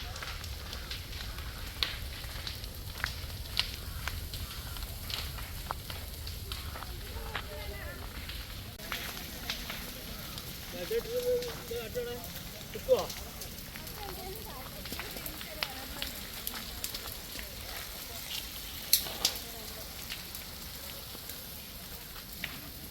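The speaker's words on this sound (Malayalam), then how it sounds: "സ്വകാര്യ വ്യക്തിയുടെ ഏഴേക്കർ ഭൂമിയിലാണ് തീപിടിച്ചത്" A hillside fire burns across seven acres of private land at Athanikunnu, Thindalam, Edayur, giving a continuous rough crackling roar with scattered sharp pops and snaps, and voices are heard faintly in the background.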